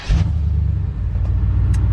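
A Chevrolet Avalanche 4x4 engine turns over at a dealer auction, then settles into a steady, close, loud low rumble with a few faint higher clicks and no talk.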